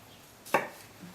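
A single sharp knife stroke through a green pepper on a cutting board while preparing gazpacho, one crisp close chop in an otherwise quiet kitchen.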